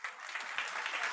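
Students in a classroom clap together in a brief, steady patter of applause, fairly soft and without speech over it.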